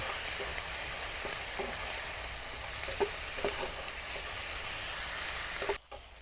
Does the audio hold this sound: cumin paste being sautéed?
yes